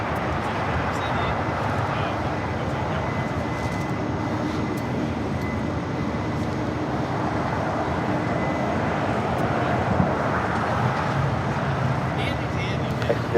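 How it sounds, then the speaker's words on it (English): An Air Canada airliner bound for Toronto takes off at Los Angeles International Airport, heard as a steady, broad jet roar that holds throughout, with indistinct voices in the background. "Air Canada, next takeoff. Heading back to Toronto"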